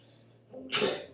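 A single sharp sneeze bursts out close by after a moment of quiet room tone.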